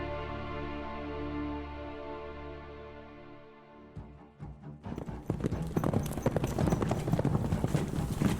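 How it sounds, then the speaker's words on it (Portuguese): Creatures' hooves clatter across a marble floor, a loud, busy clip-clop like horse hooves that bursts in after a sustained musical drone and keeps going to the end. "pisando no chão de mármore e fazendo barulho como de cascos de cavalo"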